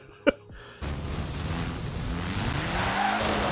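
Car drifting in Forza Horizon, an Isetta on a point drift build, with a sustained engine roar and tire squeal rising after a short sharp impact at the start, steady and fairly loud throughout.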